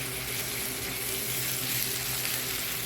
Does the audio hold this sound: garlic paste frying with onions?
yes